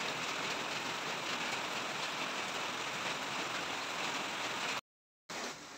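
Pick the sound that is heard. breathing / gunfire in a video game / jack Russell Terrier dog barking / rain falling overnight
rain falling overnight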